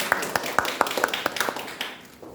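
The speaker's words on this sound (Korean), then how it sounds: "박수 한번 부탁드리겠습니다." Audience clapping at a Daejeon culture and arts policy forum, a short burst of scattered, fairly close hand claps that thin out and fade after about two seconds.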